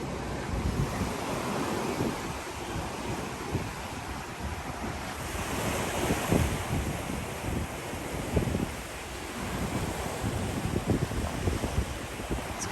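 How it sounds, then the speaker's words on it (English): Wind gusts at the seaside in Key West by a resort, blowing steadily across the microphone with a continuous rushing roar over surf, no talking heard. "The wind's blowing a little bit."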